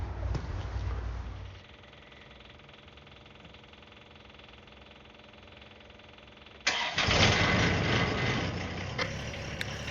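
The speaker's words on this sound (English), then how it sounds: "Rougher start with the low temperatures and a good puff of diesel fumes coming out." A John Deere 1025R diesel tractor engine idles with a steady hum, then cranks and roars to life with a loud, rough cold-weather start near the end.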